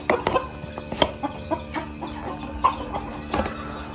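Light Brahma fancy chickens, three hens and a rooster, clucking in short, irregular bursts close by, with scattered sharp calls over a quiet background.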